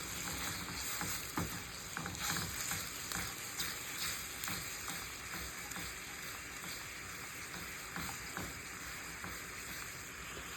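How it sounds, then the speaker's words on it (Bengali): Sugar and a little water cook into caramel in a pan, giving a quiet, steady bubbling sizzle with faint crackles throughout and no voices. "তো এটাকে আমি এখন ক্যারামেল বানিয়ে নেব।"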